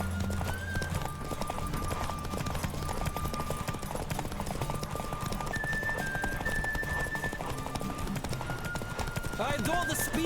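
Horse galloping in The Witcher 3: Wild Hunt, with rapid continuous clip-clop hoofbeats in a steady rhythm, a brief whinny, and a voice speaking over the hooves.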